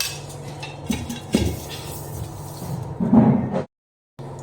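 Spoon clinking and scraping against a bowl while mixing besan (gram flour), several knocks and clatters close by, then a brief silence before the stirring resumes.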